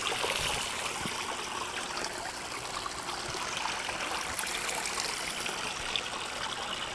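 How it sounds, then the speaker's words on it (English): Water pouring out of an aquaponics pump into a vortex filter, a steady close trickling and splashing flow with no break. "Water comes out of our pump."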